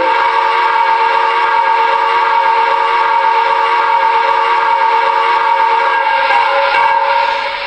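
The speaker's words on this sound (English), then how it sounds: "that was the whistle by just pressing the white button on the remote" MTH Premier NYC Niagara model train whistle sounding as one long, steady, loud chord-like blast from the locomotive's sound system, held for several seconds with no talking.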